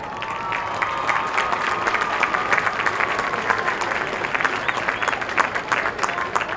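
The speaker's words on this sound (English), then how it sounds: "let's give them a round of applause" Alumni at a high school homecoming football game draw sustained crowd applause from the stands, steady and dense with scattered cheers and voices mixed in throughout.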